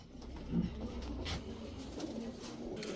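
Kasuri Teddy high-flyer pigeons coo softly in a loft, a low repeated murmur with a slightly louder call near the start and steady faint background noise.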